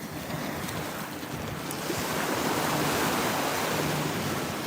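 Steady roar of Atlantic Ocean surf washing onto a beach, continuous and fairly loud, mixed with wind buffeting the microphone, no voices.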